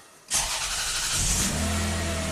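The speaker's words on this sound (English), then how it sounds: "Let's start up the car and see what it does." A 1994 Lexus ES300 engine, after a timing belt job, cranks and catches abruptly, then settles into a steady, loud idle close by.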